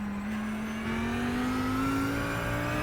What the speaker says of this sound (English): you can kind of hear the engines where his braking points are